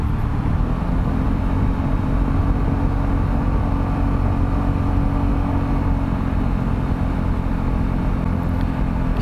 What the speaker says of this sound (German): Wenn man mal ein bisschen mehr Gas gibt, nimmt er das sehr, sehr gut an